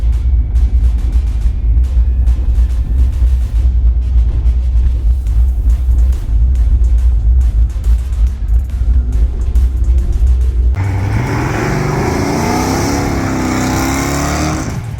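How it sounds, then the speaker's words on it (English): A 1967 Pontiac Firebird with a Pontiac 350 engine does a burnout at a drag strip, its deep engine roar holding loud and steady before shifting abruptly to a higher, rising whine as the tires spin. "There's my burnout."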